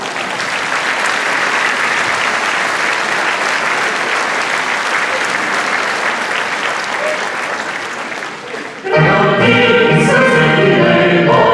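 Concert audience applauding loudly and steadily at a concert, calling for an encore, a dense close wash of clapping that ends abruptly as music starts.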